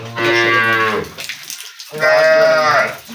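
A dairy cow at a cattle sale moos twice, two loud, close, drawn-out calls separated by a short pause, with no talk over them.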